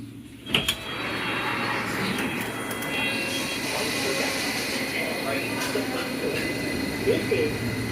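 A London Underground Circle line train stands and moves at Sloane Square, a steady loud rumble and hum with a sharp clunk near the start and faint announcements under the noise.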